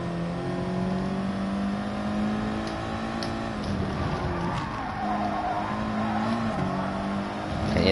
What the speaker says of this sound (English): I can hear them squealing away.